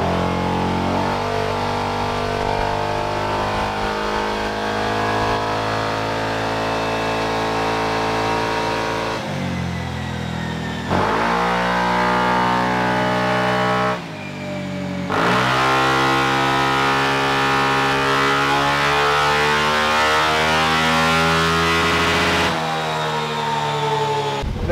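A motorcycle fitted with aftermarket pipes revs on a dyno during ECU remap tuning, several long loud pulls with rising harmonic pitch, each ending in a sharp cut back to idle.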